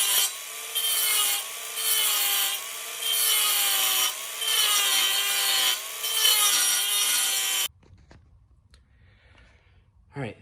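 Mounting brackets on the air tank mount of a Ford F800 truck with a 12V Cummins are cut off with a loud reciprocating power tool in repeated close bursts with a wavering pitch, followed by quiet clanks and shuffling.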